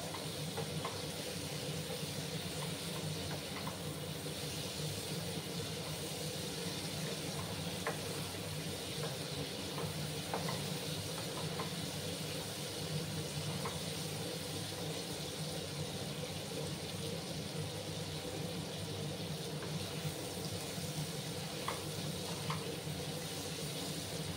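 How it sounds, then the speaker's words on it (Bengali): Ridge gourd (jhinge) is sautéed in a pan, giving a faint, steady low sizzle and crackle throughout with occasional small clicks of stirring; no voices. "কাঁচা গন্ধটা যতক্ষণ না যাচ্ছে ততক্ষণ আমি একটু কষিয়ে নেব"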